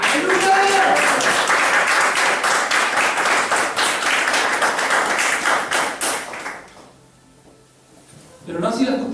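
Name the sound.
congregation applauding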